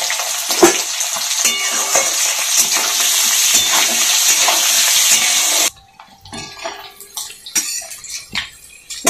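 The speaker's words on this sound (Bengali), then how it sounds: "এরপর নুন, সবগুলো দিয়ে ভেজে নিব সাথে।" Potatoes fry and are stirred in a pan with salt, giving a loud continuous sizzle with scraping strokes for several seconds before it suddenly drops to quieter, scattered crackles and clinks.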